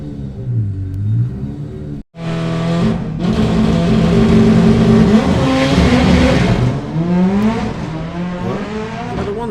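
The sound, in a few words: drag racing cars at Santa Pod test day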